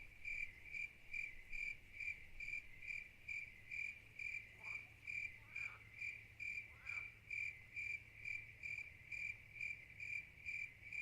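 Night crickets in a fishing video game chirp in a steady, evenly pulsed rhythm, a bright repeating trill over a quiet low hum, with a few faint splashy ticks in the middle and no voices.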